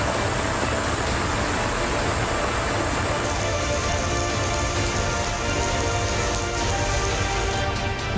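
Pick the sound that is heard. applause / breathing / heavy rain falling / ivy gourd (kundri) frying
heavy rain falling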